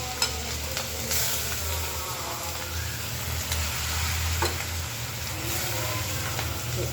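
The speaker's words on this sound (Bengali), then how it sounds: "এখন এই চিংড়ি মাছগুলো ভেজে নেব। চিংড়ি মাছটা ভুনা করবো।" Prawns frying in a pan, a steady broadband sizzle with spoon stirring scraping through it, continuous and fairly close with no talk.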